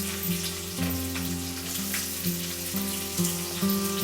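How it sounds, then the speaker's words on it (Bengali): Chopped onions frying in hot oil for dahi mutton, a steady, close crackling sizzle with a few light stirring knocks and a low background hum, no speech. "পেঁয়াজগুলো অ্যাড করে ভালো করে কিন্তু একটু ফ্রাই করে নিতে হবে"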